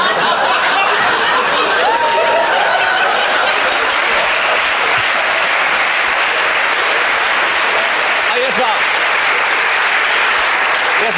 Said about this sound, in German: Die anderen haben ja nur geklatscht